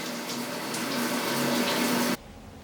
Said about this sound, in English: First we have to turn on the water, then we have to turn on the hot water heater